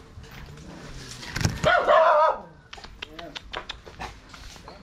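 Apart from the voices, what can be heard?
dog barking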